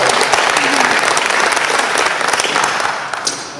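An audience at a club meeting applauds a committee, with steady, dense clapping that fills the room loudly and evenly before tapering off slightly at the end, with no speech over it.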